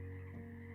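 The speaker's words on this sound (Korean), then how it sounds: "12시 이후에 우는 개구리 울음소리가 희미하게 들려왔다" Frogs croaking faintly late at night, a steady low drone of many calls blending into a continuous chorus with no talk.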